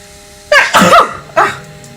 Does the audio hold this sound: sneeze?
yes